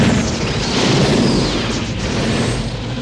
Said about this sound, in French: Et soudain, ce fut l'explosion.